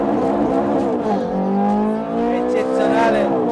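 Ferrari 430 Scuderia pulling away in first gear at full throttle with traction control off, a loud close engine note climbing steadily as revs rise, with a brief dip and tire noise near the middle.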